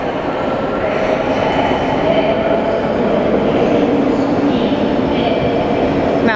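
Train rumble fills a busy Barcelona station, a steady, loud wash of rail noise with faint clatter and distant announcements mixed in throughout.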